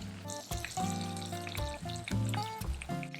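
Oil sizzles and crackles steadily as onions and dried chilies fry in a pan, a close, continuous hiss with occasional louder pops.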